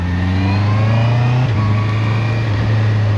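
A Honda CBR 650 R motorcycle fitted with E-Clutch pulls away in first gear, its engine a steady, close mid-pitched drone that dips briefly midway as the gear engages, with no voices.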